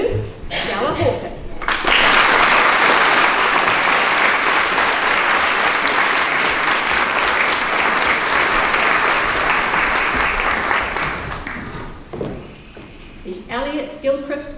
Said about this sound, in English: we're going to clap for every single one